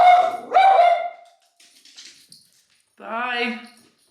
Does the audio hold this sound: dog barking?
yes